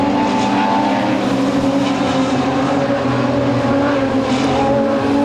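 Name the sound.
modified sedan race cars racing at Premier Speedway Warrnambool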